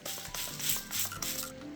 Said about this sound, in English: we're just gonna spray it down and then let it kind of dry